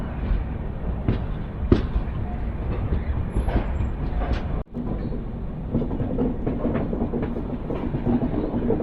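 Mandovi Express train running on the Konkan Railway near Ratnagiri, a steady rumble of wheels on track with faint clicks, briefly dropping out mid-way before the rolling noise resumes.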